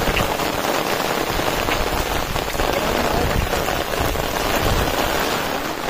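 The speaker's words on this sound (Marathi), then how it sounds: "पाऊस काय थांबायचं काम घेत नाही." Heavy rain pours down in a Konkan village, a dense, continuous close-up drumming and spattering on surfaces that stays evenly loud throughout.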